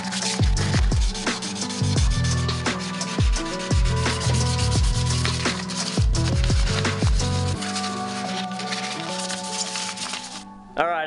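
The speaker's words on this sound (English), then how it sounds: "I started sanding the engine bay" Hand sanding scrubs over the metal engine bay of a 1988 Honda CRX Si during restoration, close and loud, with rhythmic back-and-forth rasping strokes in steady bursts and brief pauses between passes.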